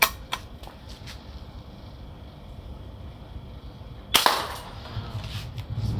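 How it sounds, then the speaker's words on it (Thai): A pellet gun loaded with egg-shaped pellets fires at a target: a few sharp cracks early, then one loud close shot followed by a brief clatter. "มาถามดูปืน ยิงลูกไข่นะ ต่อไปเป็นเป้าบนนะครับ"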